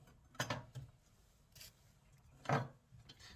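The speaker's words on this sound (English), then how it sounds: "all I'm going to do is just continue peeling it into strips" A peeler scrapes thin strips off a carrot: two or three short, quiet rasping strokes spaced a second or so apart, close up with no talk.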